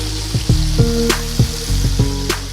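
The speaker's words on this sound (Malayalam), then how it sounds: "ഇപ്പോൾ ചിക്കൻ ഫ്രൈ ആയിട്ടുണ്ട്." Chicken breasts fry in a pan with a loud, close sizzle, broken by several short knocks and scrapes from the cookware, with no voices.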